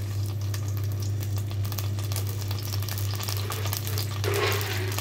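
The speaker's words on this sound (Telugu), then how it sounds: "పల్లీలు పచ్చిమిర్చి వేగిపోయినాయి." Peanuts and green chillies fry in hot oil in a kadai with a continuous, even sizzle over a low steady hum, no voices.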